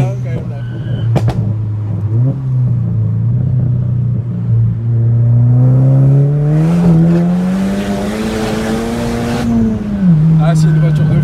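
A Volkswagen Polo R WRC with a 400 hp stage 2+ engine idles with a deep rumble, then revs slowly up and back down, loud and close, while someone talks over it.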